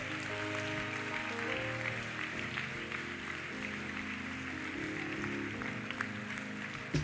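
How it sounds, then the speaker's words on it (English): A church congregation claps together in a packed room, a dense and continuous roll of applause under music with a steady low hum, fairly distant and even throughout, with no voice standing out. "We clap for every soul."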